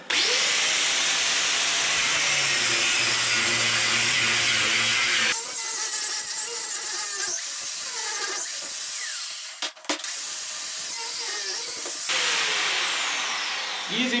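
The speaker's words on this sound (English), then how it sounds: "Now my trusted 880 watt angle grinder." An 880-watt angle grinder cuts into a concrete foundation during home demolition, a loud continuous high whine that shifts pitch as it bites, with a brief dip in the grinding near the end.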